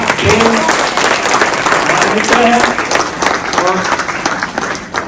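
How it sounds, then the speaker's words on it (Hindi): Loud applause from the audience at a medical association awards ceremony, dense clapping throughout with voices and crowd noise mixed in beneath it. "और जोरदार तालियां।"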